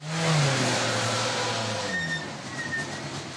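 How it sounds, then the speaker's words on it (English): A Skoda rally car engine at the European Rally Championship Sibiu Rally in Romania, droning loudly as it drives into the service area, its pitch falling and fading slightly as it passes. "So Kopecky's car into the service area"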